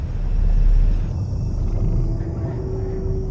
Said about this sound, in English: Then, a distant rumbling.